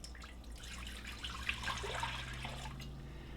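Water poured into a crock pot for broth makes a soft, continuous splashing trickle for a few seconds, quiet and close.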